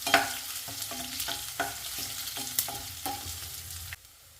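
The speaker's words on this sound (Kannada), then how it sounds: "ಸ್ವಲ್ಪ ಬೆಳ್ಳುಳ್ಳಿ, ಸ್ವಲ್ಪ ಒಣ ಮೆಣಸು ಹಾಕೋತಿದ್ದೀನಿ. ಇನ್ನು ಚೆನ್ನಾಗಿ ಫ್ರೈ ಮಾಡಬೇಕು." Garlic and dry red chillies frying in hot oil with neem leaves, a steady sizzle broken by repeated scraping stirs of a spoon against the pan, close and fairly loud, stopping abruptly near the end.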